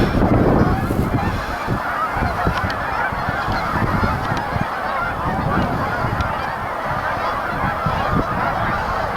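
A flock of geese at river rapids honks continuously nearby, a noisy overlapping chorus of calls.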